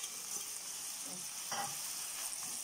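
Liver frying with onion and pepper in a pan, a faint steady hiss of sizzling oil with a few soft stirring scrapes, close and quiet, no voices.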